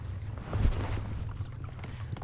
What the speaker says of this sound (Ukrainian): Включаємо третю передачу на моторі.